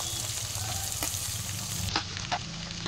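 Garlic and finely chopped onion hit a hot pan for a homemade chicken curry, giving a close, continuous sizzle with a few crackles and stirring scrapes.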